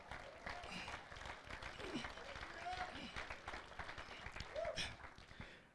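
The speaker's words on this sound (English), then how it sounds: "Let's give God another hand clap of praise." Congregation at a church service applauding in praise, a dense, steady wash of hand claps lasting throughout, with voices mixed in under the clapping.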